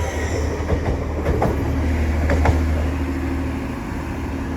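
A Class 802 train passes through Doncaster station on the East Coast Main Line, a loud, steady rumble with the rhythmic clack of wheels over rail joints at close range.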